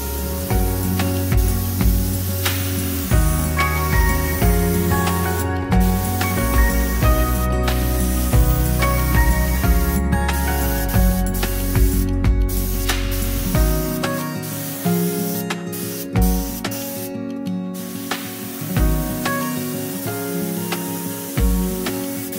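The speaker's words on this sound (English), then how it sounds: "then we can do the fun part, get some spraying on the go." Spray paint hisses loudly onto wood in long bursts with short pauses between them, over steady background music.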